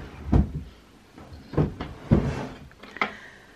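A drawer in a chest is pulled open and pushed shut while belongings are sorted for a house move: four dull, close knocks and sliding bumps spaced over a few seconds, with no talking.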